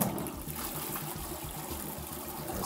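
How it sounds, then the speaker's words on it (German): A hotel toilet that is partly broken flushes with a steady, muffled rush and trickle of water throughout the short stretch, fairly quiet and with no talking. "Jetzt muss nur noch die Spülung funktionieren."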